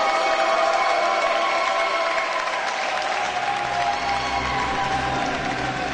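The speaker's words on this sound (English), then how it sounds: "everyone chanting, cheering, celebrating their teammates" Chessboxing championship crowd in Riccione, Italy, applauding and cheering loudly and continuously, a dense roar of clapping and voices filling the hall without a break.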